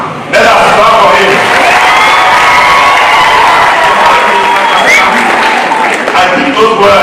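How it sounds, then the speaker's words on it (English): Loud audience clapping and cheering for Kalonzo Musyoka at a Lukenya University event, with whoops and shouts over continuous dense applause that begins abruptly and holds strong for several seconds. "Let us clap for him."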